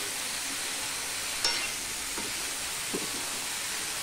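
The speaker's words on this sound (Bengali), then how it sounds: "নুন দিয়ে সম্পূর্ণটা আমি ভালো করে মিশিয়ে দেবো।" A fish head and vegetable curry gets stirred in a pan after salt goes in: a steady sizzling hiss with a few soft scrapes of the spoon, and no one speaking.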